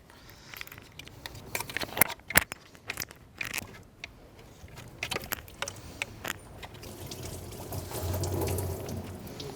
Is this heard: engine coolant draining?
yes